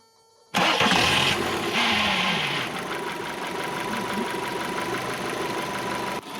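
A car engine with a toluene flush in its oil cranks and starts, then settles into a steady, rumbling idle that runs on continuously, close and fairly loud.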